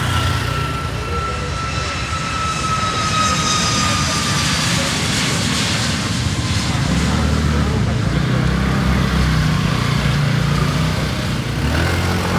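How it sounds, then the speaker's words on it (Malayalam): An airplane takes off from a nearby runway beside a runway cafe, a steady loud broadband jet roar rising and sustained throughout, with voices faintly present underneath. "ഇതിപ്പോൾ ഒരു ഫ്ലൈറ്റ് പോകുന്നുണ്ട് ഇവിടെ നിന്നാണ് ശരിക്കും പൊന്തി പോകുന്നൊരു സ്ഥലം കണ്ടോ"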